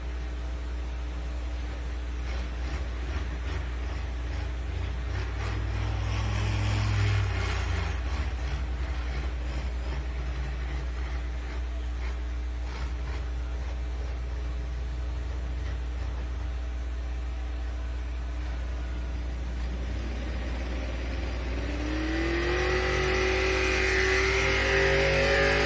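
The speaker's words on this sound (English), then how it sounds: "Good run for Melvin Deppen with the Deere Tracks attack." A John Deere tractor making a competition pulling run at a truck and tractor pulling event in Bowling Green, Ohio: a steady, loud engine roar holds throughout, rising in pitch and intensity toward the end.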